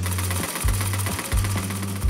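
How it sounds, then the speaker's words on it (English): A donated pedal sewing machine stitches table linens with a rhythmic mechanical chatter, the needle running in steady bursts that stop and restart every half second or so, with no voices. "With one pedal sewing machine donated by the hospital, the mothers learned to sew table linens"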